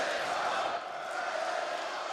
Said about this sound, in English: The crowd is loving it at the moment.